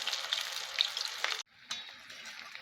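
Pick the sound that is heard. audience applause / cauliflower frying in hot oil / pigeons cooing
cauliflower frying in hot oil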